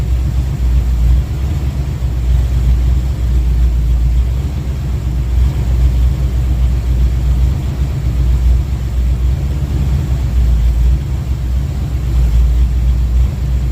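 A car engine runs steadily during repair work on a burnt ignition module, giving a continuous low rumbling idle that stays even and loud throughout, with no talking.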